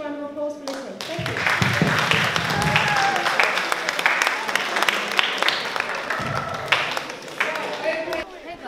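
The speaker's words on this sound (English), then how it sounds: "give yourselves a massive round of applause for listening" A crowd applauds after a talk about the education system, steady clapping swelling and holding for several seconds, with a voice briefly audible at the start and end.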